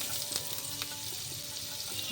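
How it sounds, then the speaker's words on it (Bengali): Finely chopped onion frying in oil in a wok with Kashmiri chilli powder, a soft continuous sizzle with faint stirring scrapes, quiet and close, no talking. "পেঁয়াজগুলো হালকা করে ভাজা হবে, খুব বেশি ভাজা হবে না"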